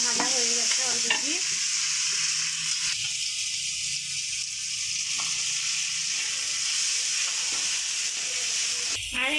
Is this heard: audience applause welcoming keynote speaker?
no